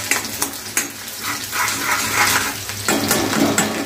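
Green chillies and garlic frying in a pan for a fenugreek-leaf dish, a close sizzle broken by spoon scrapes and stirring clatter against the pan.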